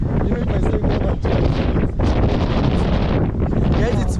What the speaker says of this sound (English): it's very, very windy. We are in this park.